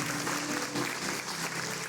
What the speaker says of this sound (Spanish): denle al Señor un aplauso